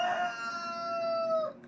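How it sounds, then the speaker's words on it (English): A rooster crows loudly and close by in one long drawn-out call, with chickens clucking faintly around it and no talk. "now that the chickens are gone"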